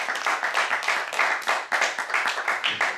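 An audience at an interview applauds with dense, steady hand clapping that swells and stays loud and close for a few seconds, with no one speaking.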